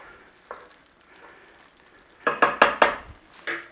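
A spoon scrapes and stirs through a thick lentil bolognese in a pan, with soft sizzling and a few quick louder scrapes toward the end.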